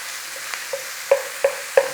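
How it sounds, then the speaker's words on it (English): Garlic and peppers stir-fried in a hot pan for black pepper beef, a steady sizzle broken by several sharp scraping stirs in a quick rhythm, close and clear with no talking. "Start them off, get the garlic in, put the peppers in."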